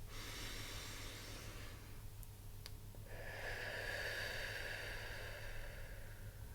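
A single long, steady breath drawn in and let out during a singing warm-up, soft and airy with a faint rasp, heard alone over a hissing background.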